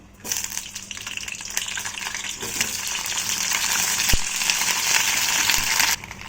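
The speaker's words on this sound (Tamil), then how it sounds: "கத்திரிக்காயை எண்ணெயிலேயே ஒரு பொன்னிறமாக வர வரைக்கும் வேக வச்சுக்கலாம்" Brinjal fries in sesame oil in a pan with a loud, continuous crackling sizzle that starts abruptly, holds steady for about six seconds with a single sharp pop, then cuts off. No voices.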